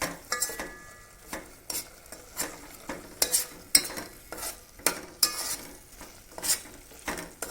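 A soft, mushy mixture for fudgy chocolate squares cooks and is stirred in a pan, with sharp spoon scrapes and taps recurring roughly every half second over a faint background sizzle, close and clear with no voices.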